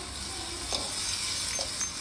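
Nasi goreng stir-fried in a large wok, a constant loud sizzle with occasional scraping strokes of the spatula, close and steady, with no talking.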